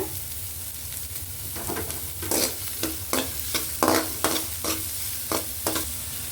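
Half a large onion fries in hot oil for bread upma, with a constant sizzle broken by a run of rhythmic scraping stirs in the second half, close and clear with no speech.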